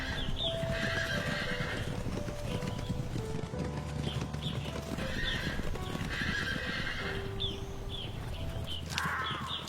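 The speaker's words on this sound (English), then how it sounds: "it's not only mighty creatures like the Przewalski's horse that struggle to survive" A Przewalski's horse on the Mongolian steppe neighs and whinnies several times over a steady bed of clip-clopping hooves, with faint bird caws in the background.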